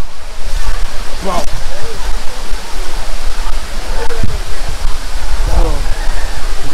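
Penchalakona's main waterfall pours into a deep pool with a loud, steady, close-up roar of rushing water, and a person's brief exclamation cuts through it.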